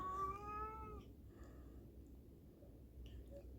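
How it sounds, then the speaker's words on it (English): A house cat gives one clear meow near the start, followed by faint rustling and quiet background noise. "Can't really focus because of my cat"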